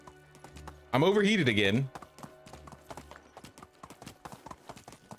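A horse gallops in the medieval survival game Medieval Dynasty, with quick, even hoofbeats running throughout. A voice speaks over them, and a loud neigh or snort cuts in briefly near the start.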